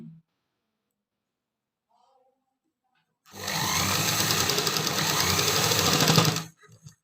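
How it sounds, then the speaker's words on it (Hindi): A sewing machine stitching a pocket onto pants runs in a steady, loud mechanical whir of rapid needle strokes for about three seconds, after a quiet pause with a faint voice at the start. "और इतनी ही गोलाई में अब मैं सिलाई करती जाऊंगी"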